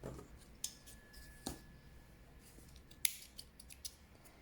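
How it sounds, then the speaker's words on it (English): Scissors snip through crochet yarn in a few sharp, separate cuts, quiet and close, with small rustles between the snips and no talking. "Cut the yarn"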